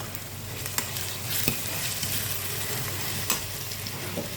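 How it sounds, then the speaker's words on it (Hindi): Chopped tomatoes go into a dhaba-style dal tadka, with a steady sizzle of hot oil and a few soft stirring clinks and scrapes in the pan, close by, with no talking. "मैं 3 टमाटो काट के रखी थी, 3 टमाटो डाल रही हूँ"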